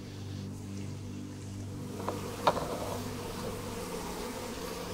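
Bees buzzing in a droning, steady hum during removal of a beehive, close and continuous with a brief click partway through.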